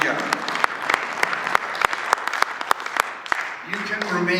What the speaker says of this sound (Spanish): Let's give that clap offering to the Lord.